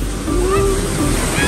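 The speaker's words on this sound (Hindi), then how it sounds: "Guys just look at the height of the waves." Big ocean waves crash at Puri sea beach, a loud, close, continuous roar of surf with wind buffeting the microphone and a voice briefly heard.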